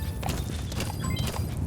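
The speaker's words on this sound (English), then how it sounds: "Let's call in D-Horse and make our way there" D-Horse's hooves clop in a quick, steady rhythm over open ground in Metal Gear Solid 5, loud and continuous, with no talking.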